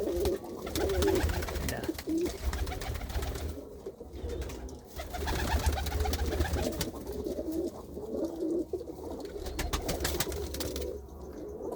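Pigeons coo in a loft where a hen has just laid an egg, the throaty rolling calls overlapping continuously at close range with some shuffling and handling noise.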